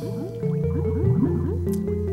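In Banjo-Kazooie, Banjo paddles through water: a run of soft watery gurgles and squishy splashes in even rhythm, layered with steady background game music.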